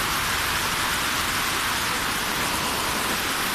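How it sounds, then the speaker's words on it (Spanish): Heavy rain pours steadily in a residential neighborhood of Yopal during a storm, a dense, constant hiss that stays loud and unbroken throughout with no voices. "Pues bendito sea Dios que nos está lloviendo"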